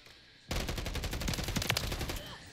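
Rapid automatic fire from the SVA 545 rifle in a video game, a sustained close-range burst of quick, loud shots lasting about two seconds after a brief quiet moment.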